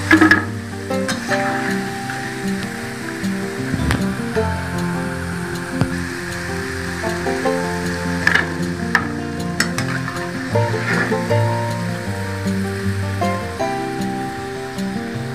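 Cauliflower pakoda (gobi 65) frying in hot oil, a steady close sizzle and bubbling with occasional crackles and stirring clinks throughout, no voices.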